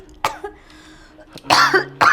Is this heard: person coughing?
yes